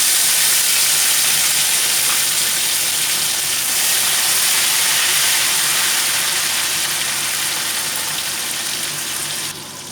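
Chopped tomato hits hot oil in a pan for Bengali-style cabbage, giving a loud, steady, close sizzle and spatter that holds for about ten seconds and eases slightly at the end.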